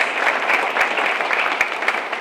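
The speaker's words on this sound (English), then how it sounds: "Let's give these Bernie High students a great round of applause" A school board meeting audience claps for high school scholarship students, a brisk, continuous patter of many hands with some sharper individual claps standing out, steady throughout and fairly close.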